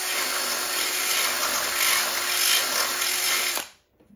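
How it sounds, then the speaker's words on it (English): A power drill bit whines steadily while reaming out a hole in a metal utility cart, loud and close with a constant high pitch. The sound then cuts off abruptly near the end. "Now I'm gonna keep it in there and clean up that hole a little bit with this drill bit."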